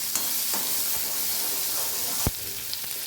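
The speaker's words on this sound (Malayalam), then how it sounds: "അതിൻ്റെ കൂടെ തന്നെ നമ്മൾ ഉള്ളി, ചെറിയ ഉള്ളി, അതും കൂടെ ഇട്ട് കൊടുത്ത് നന്നായിട്ട് വഴറ്റി യോജിപ്പിക്കണം" Onions and small shallots sauté in an oiled pan with a steady hissing sizzle, and a few sharp clinks from stirring come through close up without any talking.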